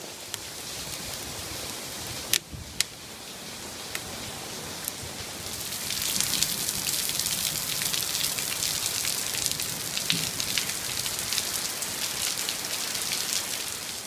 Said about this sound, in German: ihr seht im Hintergrund ein Gewitterregen, prasselt nieder